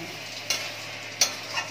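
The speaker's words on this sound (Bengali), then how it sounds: "আর হচ্ছে বেগুন ভাজা" Eggplant slices frying in a pan for a home Saraswati Puja meal: a steady, close sizzle broken by three sharp scraping clicks as the pieces are stirred.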